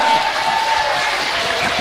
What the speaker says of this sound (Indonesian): Tepuk tangan dong buat dua coach kita.